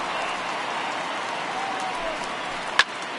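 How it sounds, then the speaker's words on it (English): Rain hisses steadily over a baseball field in the MLB The Show 19 video game, a broad even wash of crowd-like noise with one sharp knock near the end. "I don't know how much more rain this field can take"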